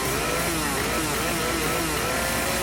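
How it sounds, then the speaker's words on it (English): A chainsaw weapon in the video game High on Life revs continuously at full throttle, a loud, dense buzzing roar that fills the whole stretch without a break. "Is this really full chainsaw mode?"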